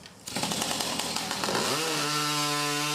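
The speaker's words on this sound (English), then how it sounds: "The chainsaws were revving in New Brunswick over the weekend at a major lumberjack competition" Chainsaws rev up at a lumberjack timber sports competition in New Brunswick, a loud, close engine roar that climbs in pitch and settles into a steady high whine.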